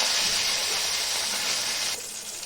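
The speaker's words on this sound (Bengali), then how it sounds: "আর দিলাম কুচানো টমেটো, একটু ধনেপাতা। এটা দিয়ে একটু ভেজে নেব।" Chopped tomatoes and coriander leaves sizzle in hot oil with five-spice seeds, dried red chillies and bay leaves, a steady close hiss that softens toward the end, with no talking.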